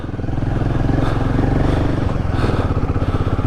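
A Royal Enfield Himalayan motorcycle engine thumps loud and close while off-roading, a steady low rumble with slight surges and clattering over rough ground.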